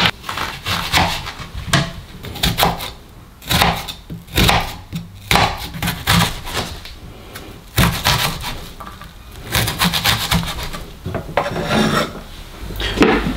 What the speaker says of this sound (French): on va émincer notre oignon